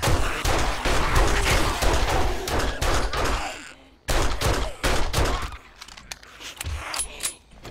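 Rapid gunfire on horde night in the 7 Days to Die survival game, with dense bursts of loud, sharp shots that break off briefly, then resume as scattered rounds fading toward the end.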